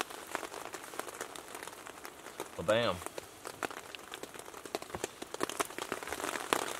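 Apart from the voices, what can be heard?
rain falling at a wilderness camp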